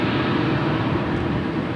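A Boeing Dreamliner jet taxis at LAX airport. It makes a steady, broad engine roar that holds evenly at a moderate distance, with no voices.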